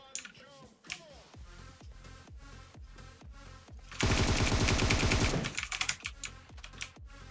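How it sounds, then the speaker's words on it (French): Bursts of automatic gunfire in PUBG Mobile strike a wall, a sustained loud volley in the middle set among scattered shots and clicks, with keyboard tapping throughout. "Il a tiré contre le mur, je crois sans faire exprès."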